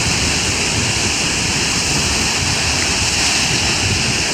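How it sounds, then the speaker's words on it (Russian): Big sea waves break on a beach at the Primorskoye seaside, a loud, steady roar of surf and rushing water running unbroken and close throughout. "Волны сильно большие"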